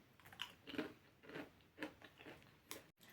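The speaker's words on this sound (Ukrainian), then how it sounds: "Я вирішила спробувати ось ці чіпси." Close, quiet crunchy chewing of chips, several bites and chews in an uneven rhythm, with no talking.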